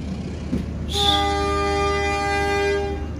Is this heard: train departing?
yes